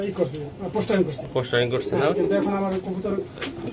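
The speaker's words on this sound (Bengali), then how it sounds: "এটা বানজা কবুতর" Banja pigeons cooing up close in a loft, soft repeated throaty coos running throughout while people talk over them.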